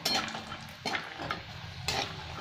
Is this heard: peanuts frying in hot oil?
yes